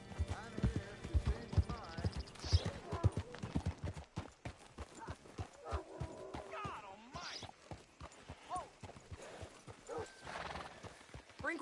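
Rhythmic clip-clop of horse hooves close by in Red Dead Redemption 2, with a horse whinnying partway through over background game sounds and music.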